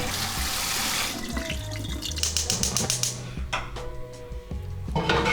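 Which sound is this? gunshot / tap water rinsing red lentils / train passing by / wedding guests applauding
tap water rinsing red lentils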